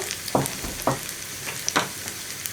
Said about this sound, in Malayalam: വെളിച്ചെണ്ണയിലേക്ക് ഞാൻ നേരത്തെ എടുത്തു വെച്ചിരുന്ന ഉള്ളി ഒന്ന് കട്ട് ചെയ്തിട്ട് കൊടുക്കുന്നുണ്ട്.